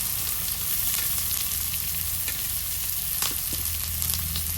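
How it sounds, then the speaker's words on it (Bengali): Onions fry in plenty of hot oil in a pan, a steady close crackling sizzle with a few faint clicks, heard alone without speech. "হালকা পেঁয়াজটা একটু ভেজে নিই।"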